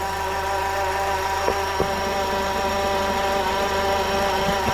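A car engine idling with a steady harmonic drone, its accessory drive belt running over the tensioner, a couple of faint ticks breaking through the constant hum, heard up close with no talking.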